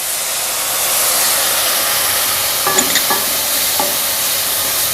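Green chillies with spices and lemon juice frying in a pan: a steady loud hiss and sizzle throughout, with a few faint clicks of stirring near the end.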